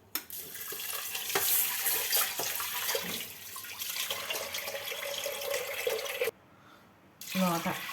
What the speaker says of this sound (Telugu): నీళ్ళు పోసుకుని